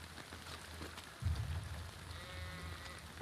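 Cattle in The Last of Us Part II give a faint, drawn-out lowing call over a quiet, rain-like ambient hiss.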